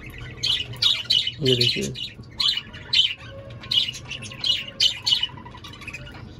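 Pet birds in a backyard aviary squawk and chirp repeatedly while feeding on soaked wheat, their close, busy calls coming in bursts throughout, with someone speaking briefly over them.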